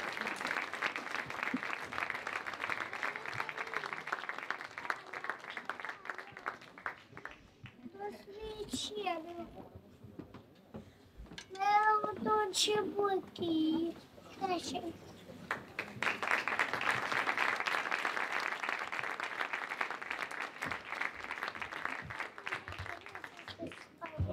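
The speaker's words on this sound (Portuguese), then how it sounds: "Uma grande salva de palmas para ela." A crowd at a literary tribute event applauds at length, the dense clapping dropping briefly while children's voices and chatter come through, then swelling again into sustained applause.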